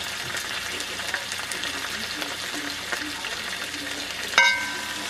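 Garlic fries in a hot pan with a steady, close crackling sizzle and occasional stirring scrapes. A sharper metallic clatter near the end rises over the frying noise.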